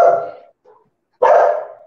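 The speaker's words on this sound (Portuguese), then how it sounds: "o cachorro." A dog barks twice indoors, loud and close, with a short pause and a faint whimper between the two barks.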